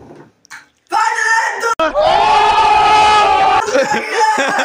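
A person screams loudly and at length after eating a chili pepper during an Oreo challenge. Short voiced bursts come first, then a sustained, strained cry close to the microphone.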